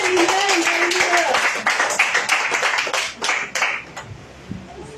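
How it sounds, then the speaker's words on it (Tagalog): A church congregation at an El Shaddai healing service claps in praise, a dense burst of hand claps that thins and fades toward the end, with a voice speaking over the start. "Nakasantong palakpak kay El Shaddai."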